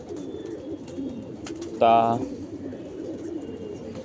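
A pigeon gives a single short, resonant coo midway through, under someone talking and faint ambient birdsong.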